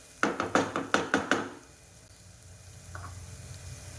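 Spices fry in a pan for a mixed vegetable sabji: a quick run of rhythmic stirring knocks and sizzles for about a second and a half, then a faint low simmer.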